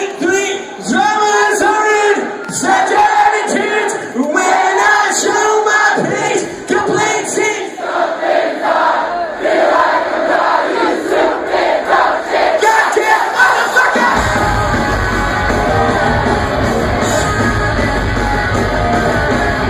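A dense live concert crowd at a show at the Hollywood Palladium in Los Angeles cheers, whoops and yells continuously, a loud sustained roar of many voices with a heavier low rumble building near the end.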